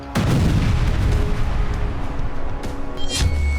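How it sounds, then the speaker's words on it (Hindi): Israeli air strike explosion in Gaza, a sudden heavy boom that rolls on as a long, loud, low rumble, with a sharper crack near the end. "तीसरा विस्फोट,"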